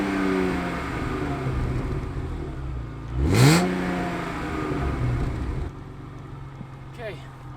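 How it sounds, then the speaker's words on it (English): A BMW E36 M3 idles and drones, then a sharp rising rev sweeps through near the middle before settling back, out on a rainy road; faint noise trails off at the end. "I'm going to give you guys some sounds of what she sounds like now, and we're gonna do some pulls down Signal Hill Drive"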